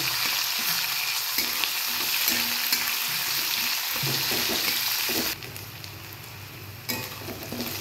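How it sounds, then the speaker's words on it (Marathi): Chopped onion frying in a pan, a continuous close sizzle with stirring scrapes and knocks, then a quieter, steadier hiss after a few seconds. "आता याच्यात आपण कांदा टाकणार आहोत। कांदा छान लाल झाला की मग आपल्याला वाटलेली मिरची टाकायची।"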